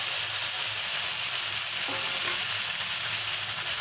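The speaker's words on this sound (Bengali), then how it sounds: "এবারে আমি ভেজে রাখা আলু আর লাউটা দিয়ে দিলাম।" Potato and bottle gourd fry in a pan with spices and Gobindobhog rice, giving a steady, loud, close sizzle that runs unbroken from start to finish with no voices.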